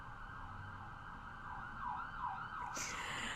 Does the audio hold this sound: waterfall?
no